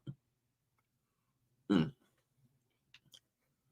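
A single short, rough throat-clearing burst stands out in a quiet room, with a few faint clicks and small noises around it.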